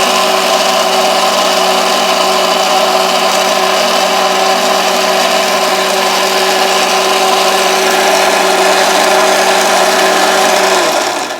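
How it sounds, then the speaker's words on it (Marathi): A mixer grinder whirs steadily while blending a paste of papaya leaves and water, a loud, continuous motor drone that holds for about eleven seconds and then cuts off. "परत एकदा मिक्सर आपण लावून घेऊ आणि ह्याची जी आहे ती पेस्ट तयार करून घेऊ"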